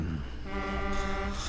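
A truck's horn sounds in the video game Road 96, a steady blaring tone with stacked harmonics that holds for about a second and a half, loud and with no speech over it.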